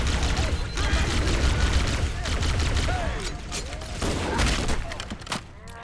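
Gunfire rattles through a Halo CE Anniversary firefight, loud overlapping shots and bursts with mechanical clanks and booms, a busy dense mix with a faint voice underneath.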